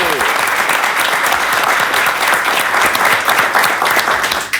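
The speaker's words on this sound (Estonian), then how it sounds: "Teeme talle suure aplausi." Studio audience gives a guest a big, sustained round of applause on an Estonian comedy talk show, dense clapping and cheering holding steady and loud throughout.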